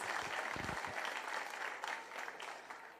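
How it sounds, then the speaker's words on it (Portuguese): A church congregation claps in praise during a worship service, a fairly quiet, sustained patter of many hands with a voice briefly audible near the start. "Aplauda o Senhor"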